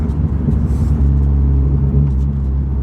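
A 406bhp Vauxhall Corsa VXR accelerating hard, its engine a loud, steady low rumble and drone heard from inside the car, with no talk over it.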